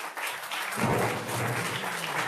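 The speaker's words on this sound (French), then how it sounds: "on les applaudit, mesdames, messieurs" A seated audience at a French public event applauds presenters, a brief, moderately distant wash of clapping that swells after a quiet start and holds steady for about two seconds.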